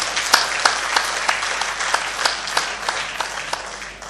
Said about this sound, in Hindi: मैं चाहता हूं कि आपके इस्तकबाल में एक बार जोरदार तालियां बजाएं